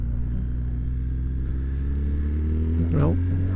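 A Suzuki Hayabusa or Gixxer motorcycle on a first ride at low revs, giving a steady, loud, rumbling engine drone with wind noise. A rider talks briefly near the end.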